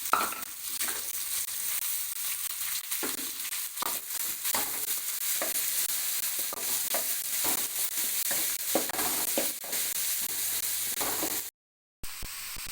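Onions sauté in a pan for a pepper quail fry, a steady near sizzle with repeated scraping stirs and crackles, briefly cut to silence near the end.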